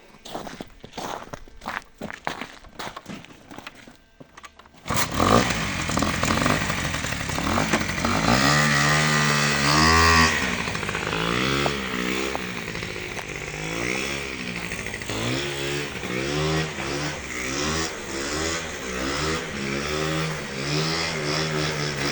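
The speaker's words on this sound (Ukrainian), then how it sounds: "Давай, Матвій, заводь." A Honda Dio scooter engine sputters to life after a few seconds of rattling, then revs loudly and repeatedly, its pitch rising and falling in waves up close.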